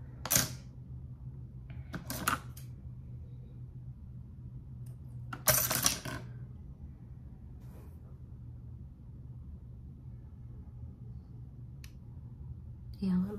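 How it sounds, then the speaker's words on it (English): Scissors trim false eyelashes in a few quick, crisp snips spaced several seconds apart, close and sharp over a low, steady room hum. "so let me get my scissors real quick. I'm gonna cut them."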